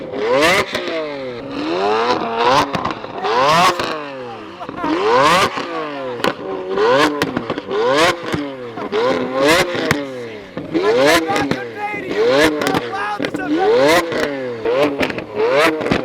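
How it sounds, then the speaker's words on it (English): A Lamborghini Aventador engine is revved repeatedly, each blip rising and falling sharply in quick succession, loud and close, with voices heard in between. "gonna rev the Aventador for us"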